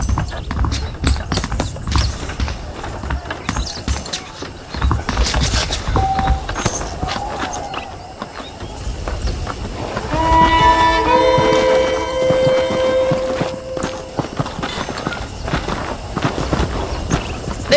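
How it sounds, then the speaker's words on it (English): Horse hooves clip-clop steadily in the Western video game Red Dead Redemption, with game ambience around them and a voice speaking over part of it. "The horses are saddled up over here."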